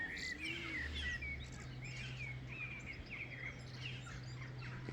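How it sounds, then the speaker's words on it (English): Many small birds settling in a tree at sunset chirp and twitter in a busy chorus, moderately distant, over a low steady hum with no talking. "You can hear the birds settling in the tree"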